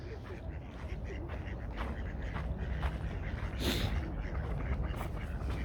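Ducks quacking repeatedly near an icy rocky shore in Stockholm, a busy chorus of overlapping calls over steady outdoor noise.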